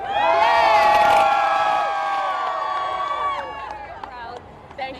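Crowd cheering at the Pride Houston parade, a loud burst of whoops and shouts from many voices that slowly fades to scattered calls.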